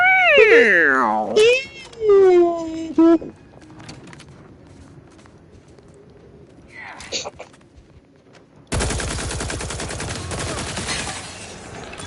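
Sustained rapid fire from a shock-damage gun in The Outer Worlds 2 video game, a dense buzzing stream of shots near the end, after an earlier stretch of squealing game sounds and quieter ambience.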